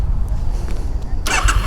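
A Triumph Street Twin motorcycle with its stock stainless exhaust rumbles low and steady up close, then gives a sharper, louder blip of throttle near the end.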